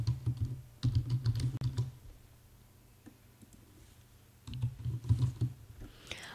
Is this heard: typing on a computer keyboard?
yes